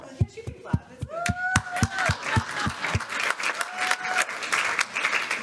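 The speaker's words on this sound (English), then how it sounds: "Yes, you can clap." Scattered applause breaks out at a graduation ceremony, starting as a few distinct sharp claps and building into a fuller patter from the audience, with a whistle-like tone and some voices mixed in.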